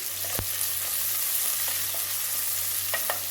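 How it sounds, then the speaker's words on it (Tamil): Sliced onions and curry leaves sizzle steadily in hot oil in a pan for a chicken curry, a close, even frying hiss with a few faint scrapes of stirring, no talk. "இப்போ பொரிஞ்ச ஒரு நேரத்தில் வெங்காயம் போட்டுக்கலாம் வெங்காயம் ஒரு கருவேப்பிலையும் போட்டிருக்கேன்"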